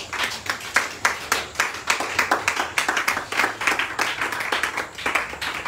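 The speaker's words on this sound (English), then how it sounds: "Can we clap our hand for that?" A church congregation clapping hands during a Thursday service in Liberia, rhythmic bursts of claps from a group that repeat steadily at moderate loudness, with faint voices mixed in.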